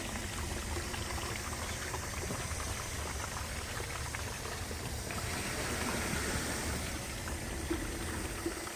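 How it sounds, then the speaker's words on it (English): Water rushes and gurgles into an empty pond-chemical jug being rinsed out over a tank. A dense, continuous pouring splash fills the whole stretch, close and fairly loud, with no voices. "I'll rinse this out."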